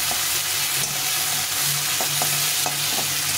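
Shrimp shallow-fried lightly in hot oil, a steady close sizzle with faint scrapes of stirring running evenly through the whole stretch, no voices.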